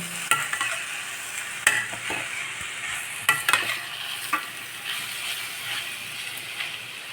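Flattened rice sizzles steadily as it is stir-fried in a pan while a utensil scrapes and clacks against the metal now and then, stirring and tossing the contents up close.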